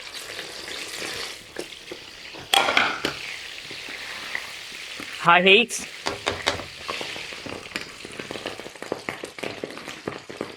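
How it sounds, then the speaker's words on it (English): Squid pieces getting their second fry in very hot oil, a loud steady sizzle with bubbling bursts, and a brief voice speaking over it. "second time of frying, get your oil really hot because this one takes shorter."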